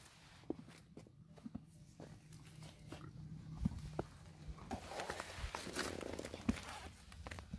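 A horse grinding food between its molars, a close series of dry crunching clicks and thuds over a low background hum, with no voices.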